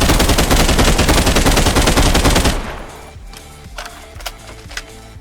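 Rapid automatic gunfire from a weapon in the video game Contractors Showdown, a loud continuous burst lasting a couple of seconds, then stopping abruptly into quieter clicks and handling sounds.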